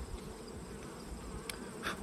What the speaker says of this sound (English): Looking on this side, just a mass of bees.